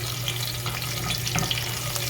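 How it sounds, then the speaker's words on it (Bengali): Green chilli and cumin tempering crackle in hot oil with a steady, close sizzle that holds evenly for about two seconds. "এখানে আমি তেলের মধ্যে আগেই কাঁচামরিচ আর জিরার ফোড়নটা দিচ্ছি"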